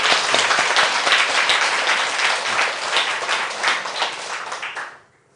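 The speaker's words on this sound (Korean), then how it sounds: "그래서 박수 한 번 더." An audience at a church summer retreat applauds in a dense, sustained burst of clapping that fills the room for about five seconds, then stops abruptly.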